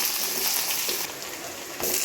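Potatoes and onions frying in a pan give off a steady, loud, close sizzling hiss that holds throughout with small shifts in intensity, and no talking.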